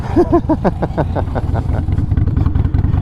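A Harley-Davidson Sportster 1200c motorcycle engine fires up and settles into a loud, close, lumpy idle, with a few blips of revving early on before a steady rumbling beat.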